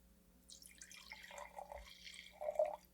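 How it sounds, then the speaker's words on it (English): Wine being poured gently into a glass, a soft trickling stream with a brief gurgle toward the end, close and quiet, with no talking. "Gentle wine pouring sound."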